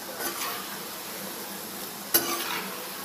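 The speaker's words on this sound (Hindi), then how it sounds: "तो इसको फ्राई होने देते हैं।" Food frying in a pan as a sweet honey snack is made, a soft steady sizzle throughout with a brief sharp clink of a utensil partway through, fairly quiet and without voices.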